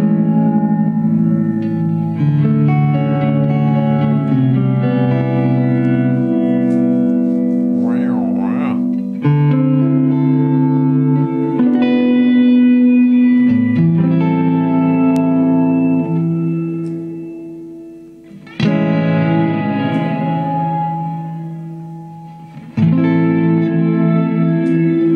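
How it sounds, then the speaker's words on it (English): Electric guitar played through a reverb pedal with a phase shifter, giving sustained, swirling chords and notes with a long wash of ambience, loud and close, alone without talk. "It's a reverb with a phase shifter."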